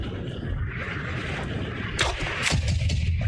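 Gunshots ring out in the shooter game XIII, two sharp loud cracks about half a second apart over a low rumbling ambience.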